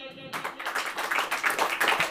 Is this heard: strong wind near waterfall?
no